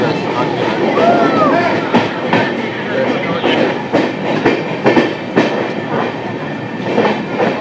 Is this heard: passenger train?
yes